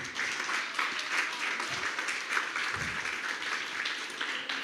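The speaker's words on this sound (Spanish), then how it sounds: "Así que denle un aplauso por todos los que se esfuerzan cada día." A church congregation applauds together, a steady, fairly faint wash of many hands clapping from across the room, with no voices over it.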